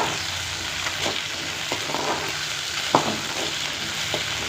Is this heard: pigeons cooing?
no